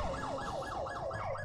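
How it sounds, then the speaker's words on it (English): Ambulance siren in the police video game LSPDFR, a continuous wailing sweep that rises and falls about five times in quick succession, loud and steady with engine rumble beneath. "Looks like it's an ambulance."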